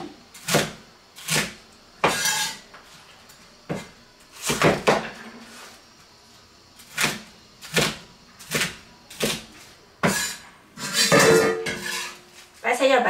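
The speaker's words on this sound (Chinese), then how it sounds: "下面咱们把控好水的白菜给它切一下" Knife chopping drained napa cabbage into chunks on a board for a Chinese mixed stew, about a dozen sharp, distinct chops in an uneven rhythm, close and clear with no talk.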